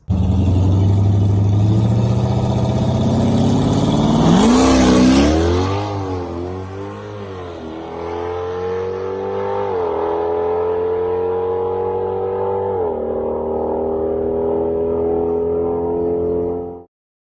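A naturally aspirated 392 Scat Pack launching down a quarter-mile drag strip, a loud, close V8 roar climbing through several gear changes with rising and dipping pitch, then fading out.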